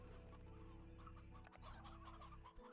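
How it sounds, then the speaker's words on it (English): Chickens cluck in the Slime Rancher 2 video game, a steady low-level fowl chatter running throughout beneath a dense bed of game music and ambience, with no voices. "We'll probably grab some chickens for you."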